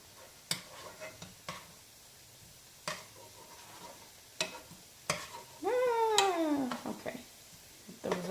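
Shrimp cook in a frying pan with a low sizzle, while a spatula gives a series of sharp taps and scrapes. A cat meows clearly partway through, and the sounds are close and moderately quiet.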